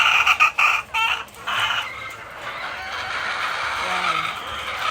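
Chickens in an expanding poultry house cluck repeatedly in short bursts over steady background noise, with a busy, close flock sound throughout.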